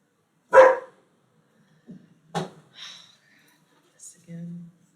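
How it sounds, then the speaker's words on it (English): A dog gives a few sharp, separate barks, loud and close at first, then softer, with quiet pauses between them and a low voice at the end. "Why are you barking at me?"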